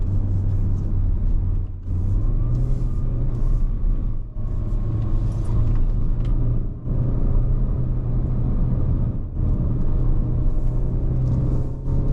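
A Peugeot 3008 climbs the Genting hill road in manual mode, its engine a steady low rumble and drone from inside the cabin, holding a gear with brief dips where the note shifts, nearly unbroken and loud.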